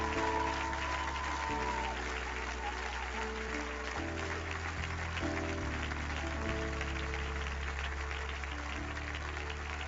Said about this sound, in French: On acclame, on acclame, on acclame.